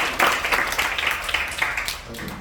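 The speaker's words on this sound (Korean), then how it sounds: "박수 한번" Church congregation applauding during a Sunday service, a continuous dense clapping that holds steady throughout and eases slightly at the end.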